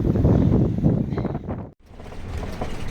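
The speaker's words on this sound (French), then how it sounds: "il y a beaucoup de vent" Strong wind buffets the microphone in a Walmart parking lot, producing a loud, rumbling roar with one brief dropout.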